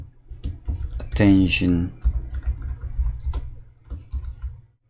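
Typing on a computer keyboard while entering text in AutoCAD, a patter of close, fairly soft key clicks running under a brief spoken word.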